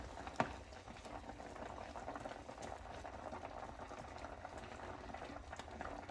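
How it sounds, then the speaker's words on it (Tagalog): Ginataan papaya with shrimp boiling in a pot, a steady close bubbling and simmering hiss with small pops, continuous throughout with no talk. "Kulong-kulo na siya."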